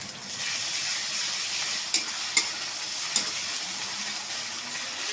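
Onion and garlic paste frying in a pan for a prawn and Malabar spinach curry hisses in a steady, close sizzle, with a few sharp utensil clicks.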